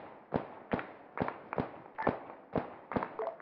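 Gunfire in the military game Arma 3 comes as a string of sharp, distant-sounding shots, roughly two per second in uneven bursts, with no talk over them.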